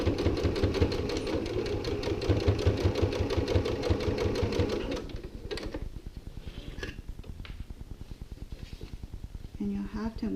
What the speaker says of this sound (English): when we go back to the sewing machine deck here, I'm going to need to stitch down the pleat